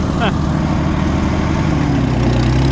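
A 1937 Oliver Hart-Parr 70 tractor engine running in gear, a steady, loud, close low rumble that holds without a break, with a brief higher chirp near the start.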